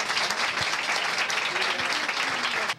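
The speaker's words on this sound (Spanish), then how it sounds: "Un aplauso para ella." Warm audience applause in a television studio, steady clapping from a live crowd that continues evenly before dropping off abruptly at the end.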